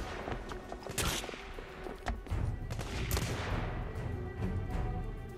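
Gunfire from the video game The Order 1886: bursts of rapid shots and sharp cracks at moderate level, layered over a rumbling, busy battle background with no talk.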